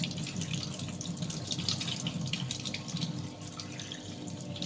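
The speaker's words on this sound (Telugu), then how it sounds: "ఇలాగా వాటర్ అయితే చేంజ్ చేసుకోవాలి." Tap water runs steadily into a sink or container while water is changed for money plant cuttings, a continuous close splashing flow with faint drips and no voices.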